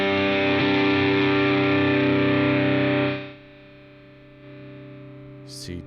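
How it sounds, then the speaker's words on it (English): An electric guitar runs through a boost placed after distortion in the BIAS FX app, giving a loud, thick, sustained distorted chord that rings for about three seconds and then drops to a quieter decaying tail. "boost is actually going to kind of tighten up the low end whenever you put it after the distortion"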